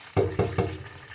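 Three quick wet thumps and splashes as undrained canned beans with their liquid are poured into a pot, close and short, followed by a faint trickle.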